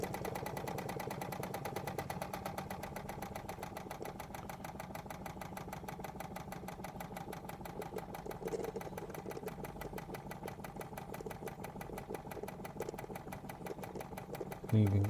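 A small Wilesco D20 model steam engine runs with a fast, even mechanical chatter of repeated beats that stays fairly constant, with a brief louder knock at the very end.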